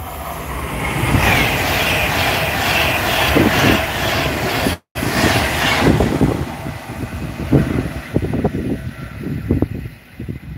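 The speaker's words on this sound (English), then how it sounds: "Class 150 is a nice train, epic." A Class 150 train in a train simulator game rumbles steadily with a droning engine, its noise dropping out briefly midway, then continuing with uneven clattering.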